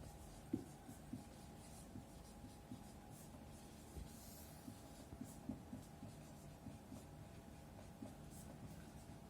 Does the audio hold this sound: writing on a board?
yes